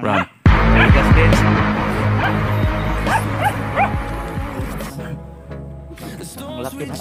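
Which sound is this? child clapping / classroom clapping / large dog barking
large dog barking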